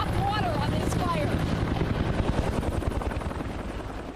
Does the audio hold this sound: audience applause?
no